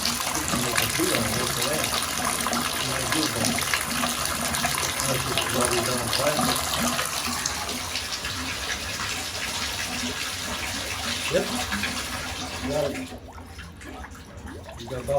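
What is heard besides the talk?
water bubbling up in a backed-up toilet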